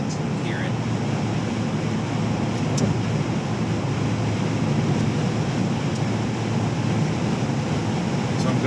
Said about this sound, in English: So I guess we're getting directly into the wind or something. I can definitely feel it, hear it.